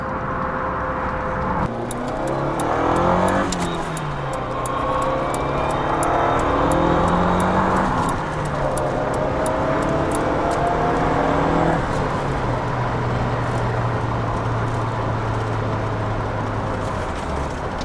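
A Lancia Delta HF Integrale Evoluzione II rally-bred car revs while driving, its engine rising quickly through the rpm in loud, sustained pulls with gear changes, heard from inside the cabin.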